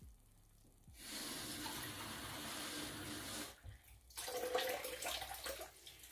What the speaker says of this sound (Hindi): और इसमें मैं 1/2 ग्लास पानी का भी ऐड करूंगी